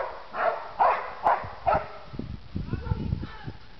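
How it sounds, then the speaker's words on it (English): A dog barks excitedly indoors during a house walkthrough in Las Vegas: four quick, fairly close barks in an even rhythm, followed by softer whimpers and shuffling. "That's a happy dog."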